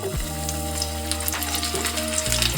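Tinda and potato pieces sizzle in hot mustard oil in a frying pan, a loud, steady crackling fry with bright spattering pops that runs throughout at close range.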